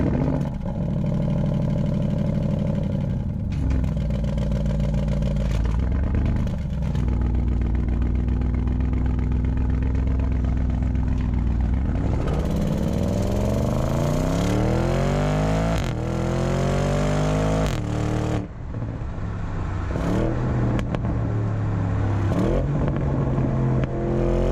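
A 2021 Audi RS Q8 SUV with a twin-turbo V8 drives with a deep engine drone, then revs hard through rising acceleration sweeps and shifts, heard from the cabin with no talking.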